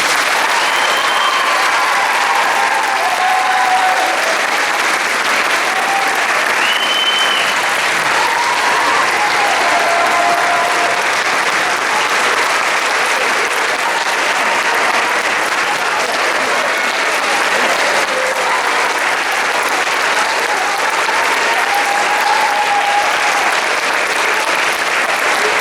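Sustained applause from the audience at a school's 8th grade graduation ceremony, a dense, unbroken wash of clapping lasting the whole stretch, with faint cheers and whistles rising briefly above it.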